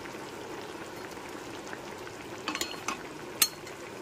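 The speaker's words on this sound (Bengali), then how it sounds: "মাছের ঝোলটা ফুটেও এসেছে।" Thin fish curry with potato and eggplant simmering in a pot, giving a steady soft bubbling hiss, with a few brief clinks and pops near the end.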